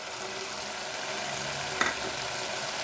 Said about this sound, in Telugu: ఒక టూ మినిట్స్ సిమ్లో ఫ్రై అవ్వనిచ్చి కారం వేసుకుని